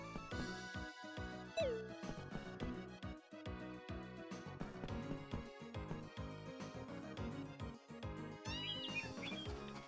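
A cat meowing in the farming game Story of Seasons: A Wonderful Life, a few short, high, clear meows over busy, jingly background music, with no talking.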